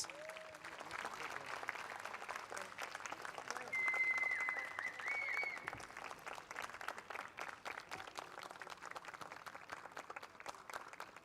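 Applause for the Mini 60 karting finalists at a Champions of the Future Academy race day at Al Forsan, Abu Dhabi, steady crowd clapping throughout with a slight swell in the middle and faint background noise.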